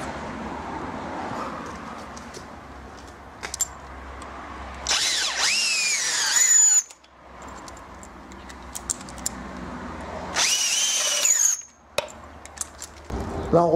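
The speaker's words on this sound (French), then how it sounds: "on commence à faire le trou en bas, toujours en mèche de 10" A power drill with a 10 mm bit bores holes for a kit garage door installation, two loud close bursts of a few seconds each, separated by quieter handling noise.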